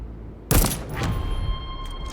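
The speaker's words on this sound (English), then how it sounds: "Wait, he has a machine gun?" Video game gunfire: one sharp loud burst, then a sustained rattling stream of shots with a ringing tone, close and dominant, with no talking.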